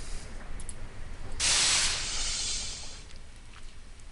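A hot gold-filled mold plunged into a barrel in the Edna & Harvey game releases a loud burst of steam hiss that swells, then slowly tapers over a background hiss.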